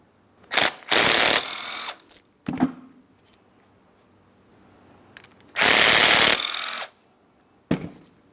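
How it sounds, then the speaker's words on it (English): A 13 mm wrench or power tool removing caliper hardware on a Ford Transit 250 rear brake, with loud bursts of whirring separated by short metallic clinks and quiet gaps. "We're using our 13 millimeter to remove each piece of hardware so we can remove the caliper from the bracket."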